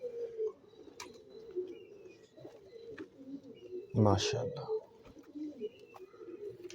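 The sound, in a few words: pigeons cooing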